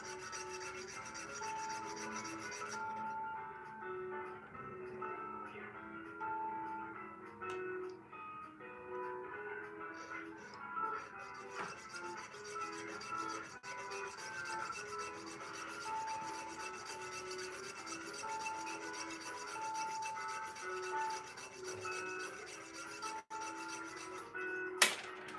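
Jeweler's saw cutting a coil of sterling silver on a Durston jump ring former with a steel mandrel, giving a steady fine rasping stroke that runs continuously and close up, with a brief sharp knock near the end.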